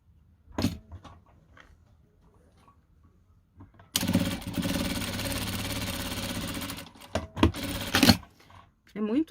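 A domestic sewing machine runs in one steady four-second burst, stitching fabric scraps for a log cabin quilt block, its fast even motor whir close and loud, framed by handling clicks and pin or fabric rustles before and after.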